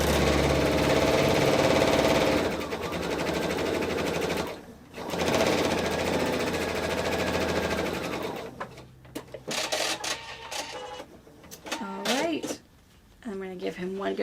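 A sewing machine stitches quilt block pieces for a star block, a steady loud mechanical whir running for about eight seconds, then giving way to a few short starts and stops as sewing ends.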